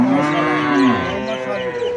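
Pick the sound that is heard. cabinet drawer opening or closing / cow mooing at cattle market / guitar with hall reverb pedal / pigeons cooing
cow mooing at cattle market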